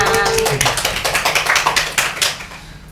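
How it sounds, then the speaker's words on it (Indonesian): A small group claps hands in a quick, fairly loud burst of rhythmic claps lasting a couple of seconds, then trailing off, with a brief voice at the start. "Tepuk dong. tangannya dong teman-teman"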